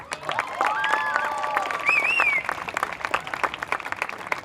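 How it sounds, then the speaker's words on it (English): An audience at a high school choir concert applauds, a dense wash of clapping with some tonal whistles or cheers near the start, then thinning into scattered claps toward the end. "Give her a round of applause."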